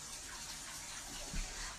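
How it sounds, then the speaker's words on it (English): Water runs steadily from a tap into a bathtub in the bathroom of an old house, a soft, even gushing hiss heard from a short distance, alone with no talk. "Water's running in the bathroom."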